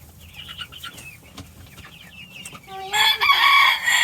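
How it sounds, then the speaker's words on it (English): A rooster crows loudly and shrilly nearby near the end, after quieter clucking and brief speech. "You cock-a-doodle-doo."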